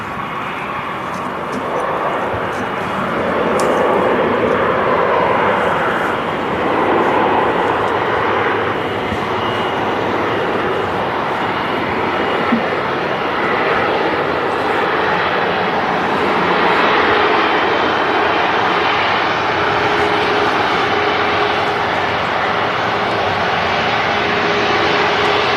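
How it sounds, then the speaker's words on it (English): A Virgin Atlantic airliner taxiing out at Manchester Airport gives a loud, steady broadband engine roar that holds for the full length with slight swells, sounding fairly near and continuous. "the first of those Virgin Atlantics is now taxiing out"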